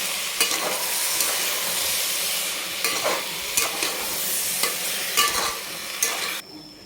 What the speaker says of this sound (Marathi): नंतर कोथिंबीर टाकायची आणि भरपूर असा पुदिना टाकायचा आणि मिक्स करून घ्यायचा